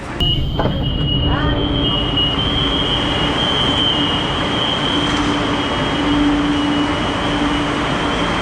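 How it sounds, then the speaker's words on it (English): A commuter train on a rural line near Chongqing rolls steadily along its rails, a continuous loud rumble with a sustained high squeal and brief screeches near the start. No one speaks. "Which basically means that this is kind of like a halfway commuter train."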